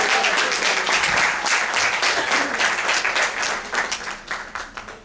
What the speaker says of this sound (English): Another round of applause for Eddie White on tenor sax solo.